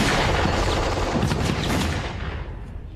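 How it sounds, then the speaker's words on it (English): Machine gun and mortar fire from a World War II battle near Arnhem erupt as a dense, loud barrage of overlapping bursts and booms, fading slightly toward the end. "machine guns and mortars pounded the advancing British"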